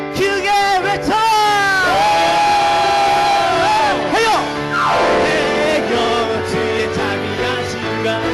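A church congregation in a worship service shouts loudly toward God, a sustained roar of many voices over ongoing music, with a sweeping swell midway.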